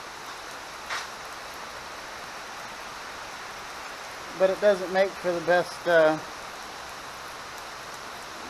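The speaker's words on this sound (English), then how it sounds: "It just started downpouring outside, which we need the rain so bad." Heavy rain pouring down outside, a steady soft hiss of falling water throughout, with a person briefly talking over it partway through.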